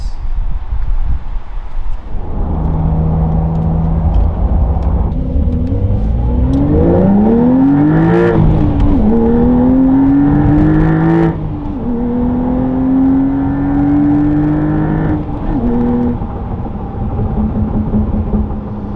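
A 2025 Porsche 911 Carrera T pulls hard from inside the cabin, its engine note climbing through several gears with rising whines and brief dips at each shift, loud and steady throughout.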